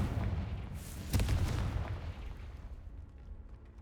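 A Confringo blasting spell in Hogwarts Legacy sets off a booming explosion with a sharp burst near the start, then a rumbling decay that fades over a few seconds.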